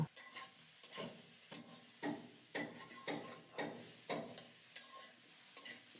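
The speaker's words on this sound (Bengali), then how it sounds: "এবার নেড়ে চেড়ে আরও কিছুক্ষণ কষিয়ে নিয়ে" Pumpkin pieces fry with turmeric powder in a pan while a spoon stirs them in a steady rhythm of soft scrapes, with a quiet sizzle running underneath.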